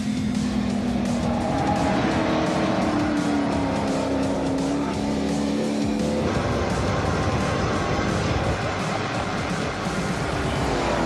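A Harper Type 6 Turbo sports car runs a hot lap, its engine note rising and falling through gear changes with turbo chatter on lift-off, continuous and fairly close.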